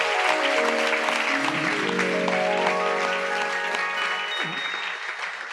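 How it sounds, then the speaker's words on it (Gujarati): Applause from a congregation at a spiritual gathering, a dense, steady wash of clapping that holds loud for several seconds while a sustained musical tone rings underneath. "એક વખત તાળીથી બતાવો."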